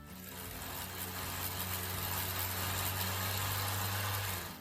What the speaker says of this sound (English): my Kia sounds like a grass trimmer